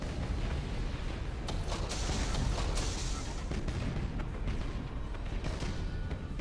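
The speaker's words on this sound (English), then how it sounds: "These torpedoes should impact against him regardless." Torpedoes striking an enemy ship in the space battle game Battlefleet Gothic: Armada, heard as a dense, continuous rumble of booming impacts and crackling blasts that stays loud throughout.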